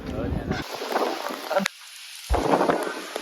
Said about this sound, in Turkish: deli gibi yağmur yağmaya başladı